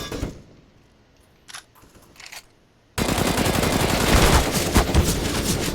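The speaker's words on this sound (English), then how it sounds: "Clifford now, he's instead looking for the fight with the MP7, but just exchanging shots" Gunfire from an MP7 and other weapons in a competitive team shooter match; a few quiet clicks and taps, then a sudden loud, continuous stretch of rapid automatic shots fills the second half.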